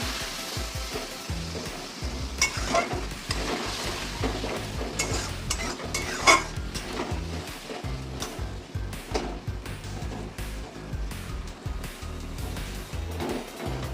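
Spiced masala with water is stir-fried in a pan, with continuous close scraping and knocking of a spatula over a steady sizzle, busy and uneven throughout, with no voices.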